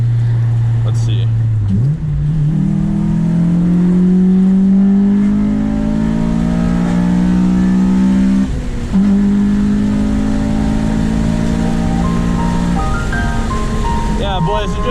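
A modified Honda Civic Si accelerates hard with the windows down, its engine note climbing steadily through the gears with a brief dip at a shift, loud and close from inside the cabin.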